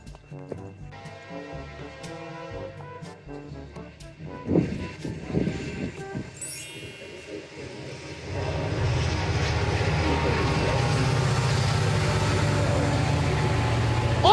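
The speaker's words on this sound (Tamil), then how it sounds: "ட்ரெயின் வருது." A train passes close by near a CN railway station at Fort Langley, starting as a mixed rumble with scattered clanks and growing into a loud, steady roar of rolling wagons for the second half.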